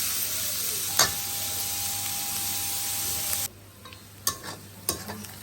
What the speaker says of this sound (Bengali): লবণ দিয়ে ভালো করে কষিয়ে নেব।